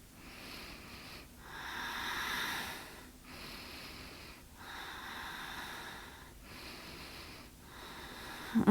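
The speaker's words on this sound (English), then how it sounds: "Deep breath here." Slow, deep breaths during a gentle full-body yoga flow, moderately quiet and close. Each long inhale or exhale lasts about a second and a half, separated by short pauses, with no talking.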